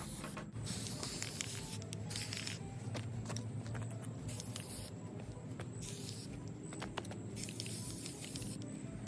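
A spray paint can hisses steadily onto a diaper cake gift box, a continuous close aerosol spray broken by a few brief pauses and nozzle clicks, with no voices.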